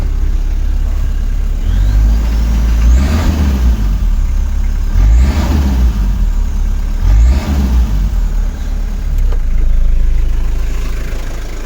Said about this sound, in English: You know, these diesels are loud and kind of obnoxious